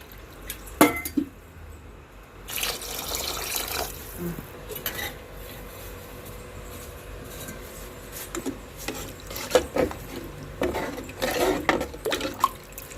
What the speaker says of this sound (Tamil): இப்போ 1 கிளாஸ் தேங்காய் பால், 3 கிளாஸ் தண்ணி.